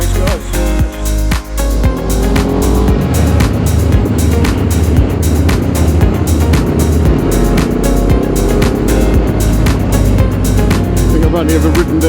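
A motorcycle climbs a twisty road, its engine droning loudly and steadily with rising and falling revs, wind buffeting the microphone throughout.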